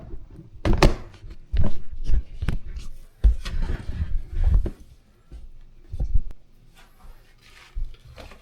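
Kitchen fridge door being opened and shut, a series of dull thunks and knocks with rustling of items between them, close and fairly loud.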